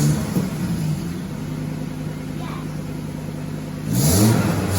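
A Volvo 850 BTCC race car engine revs through a homemade exhaust built from surplus and scrap parts, a steady mid-pitched idle rising into a louder rev near the end, with voices nearby.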